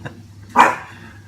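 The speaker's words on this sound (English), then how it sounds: "I've got a dog here now wanting to play" A pet dog named Pepper, eager to play, lets out a single close, sharp bark after a faint short yip, in an otherwise quiet indoor room.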